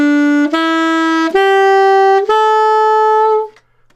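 A saxophone plays an A pentatonic scale upward, four sustained notes stepping higher with brief breaks between them, close and clear with no other sound, ending in silence.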